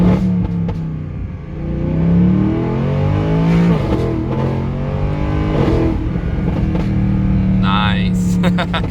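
A Mercedes AMG SLS Black is driven hard, its engine blipping and popping through rapid downshifts before climbing into a loud, rising rev and dropping back; someone talks over the engine throughout.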